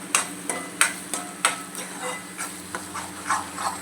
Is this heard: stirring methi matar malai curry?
yes